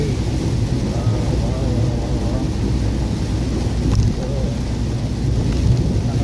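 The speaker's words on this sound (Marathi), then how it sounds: "कोकणातला हायवे, गाडी 100च्या स्पीडला आणि हा पाऊस जोरात चालू झालेला आहे." Heavy monsoon rain batters a car speeding at about 100 km/h along a Konkan highway, a dense, steady roar of road and wind noise with rain drumming close around the cabin.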